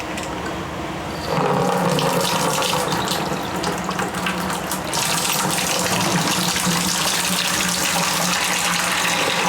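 Liquid from a baked apple bourbon mash drains out through a valve during sparging, a steady splashing gush like a running tap that grows louder and fuller partway through, close by with no talking.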